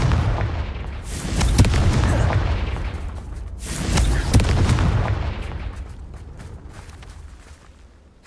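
Confringo spell explosions in Hogwarts Legacy, two big booming blasts a few seconds apart, each with a rumbling decay, close and loud.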